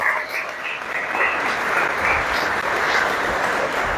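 Steady applause from a congregation at a Catholic prayer gathering, a dense, even patter of many hands clapping for about four seconds at moderate loudness with no voices over it.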